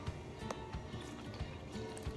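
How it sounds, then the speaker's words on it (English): Water is poured into glue to make slime, giving a short, steady liquid trickle and dripping close by. "And now I'm going to just add my water in"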